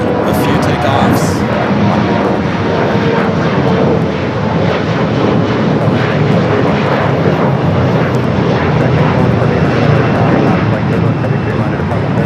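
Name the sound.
Boeing 747 jet taking off at LAX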